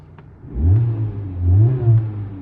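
A Honda Civic Type R FL5 at a forecourt revs twice against its soft limiter, each rise a low throaty engine surge that holds briefly and then falls back, heard close with no talking.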